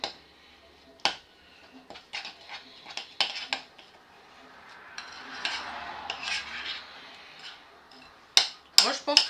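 Baked apple almond cream being mixed in a bowl, a utensil clinking and scraping against the sides in irregular bursts, fairly close and quiet, with someone speaking between strokes.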